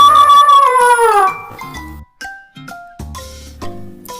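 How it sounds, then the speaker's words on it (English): A single drawn-out, falling meow from a cat, clear and close, followed by a few light tinkling and chiming tones. "This is cat."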